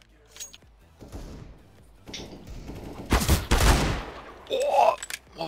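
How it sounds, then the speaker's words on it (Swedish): Gunfire in Counter-Strike: Global Offensive, a loud burst of rapid shots around the middle, with scattered quieter game noises and a sharper sound near the end; a voice talks faintly at times. "Vad var det där för skott?"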